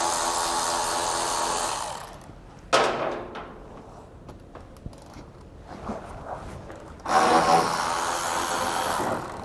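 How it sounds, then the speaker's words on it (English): A power tool whirs in bursts while removing bolts from the trailer hitch beam on a 2012 Audi A5, with quieter metallic clicks and handling noises in between the runs. "There's two bolts side by side here we're gonna remove with that same socket."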